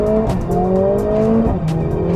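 Mercedes-AMG A45 S with its M139 four-cylinder engine accelerating hard, a loud close rising engine note climbing through gears with a brief shift dip midway.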